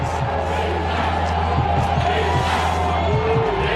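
Football stadium crowd at Cheney during an FCS quarterfinal between Illinois State and Eastern Washington, a loud sustained roar of cheering and yelling filling the whole stretch, with a commentator's voice faintly underneath.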